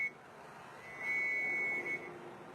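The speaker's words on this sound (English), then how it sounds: "the whistle, signaling it's time to return home where plenty of food awaits" A steady, high pigeon training whistle tone holds for about a second over low background rumble, fairly faint and a little distant, in Taiwan.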